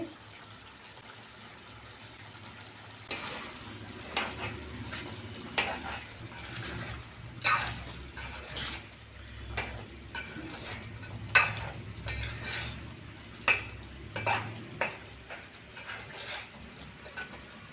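A spoon scrapes and stirs chicken curry in a pan after curd and chili powder go in, with a low sizzle beneath irregular knocks and scrapes, close and fairly loud.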